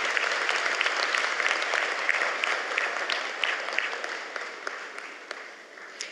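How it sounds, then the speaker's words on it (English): Sustained audience applause at a graduation commencement ceremony, a broad crackling wash of many hands clapping that gradually tapers off, with hardly any talk. "I'd like to give them a round of applause as well."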